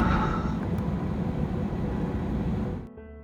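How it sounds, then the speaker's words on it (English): A 40-year-old MEA Boeing 737-200 takes off from runway 21 in Beirut, heard from inside the cabin as a loud, steady engine roar and rumble that drops away sharply near the end. "We took off on runway 21"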